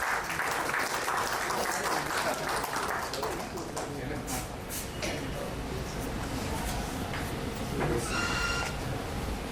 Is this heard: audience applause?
yes